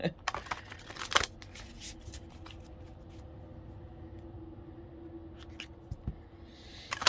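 A large, heavy unicorn oracle card deck is shuffled by hand, with soft irregular riffling, slapping and sliding of cards close to the microphone, in quiet bursts separated by short pauses.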